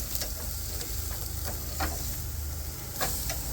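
Steaks sear on a grill with a steady, close hiss and crackle, punctuated by a few faint ticks, with no voices.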